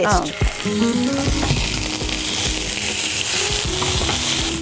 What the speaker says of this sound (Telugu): చిట్పట్లాడుతుంది కరివేపాకు